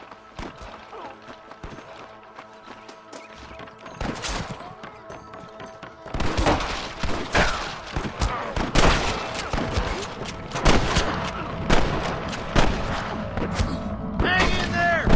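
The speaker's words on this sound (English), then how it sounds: "I can hear more gunshots." Video-game gunfire in a Western law-and-order shootout: sparse distant shots at first, then rapid volleys of cracks and booms with overlapping game voices and sound effects.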